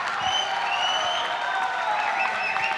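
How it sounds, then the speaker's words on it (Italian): An audience at a book fair talk on the orange economy applauds in a steady, full burst of clapping, with a few voices and a little cheering heard faintly underneath. "Bravo, un applauso forte."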